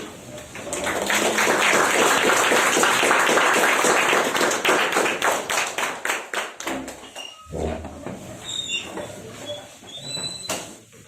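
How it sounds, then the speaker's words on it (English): Loud round of applause from an audience at a speakers' forum, dense at first, then breaking into sparser individual claps that taper off, with scattered light taps and sounds near the end. "for P1, we do give a stand-up ovation, so I think a big round of applause"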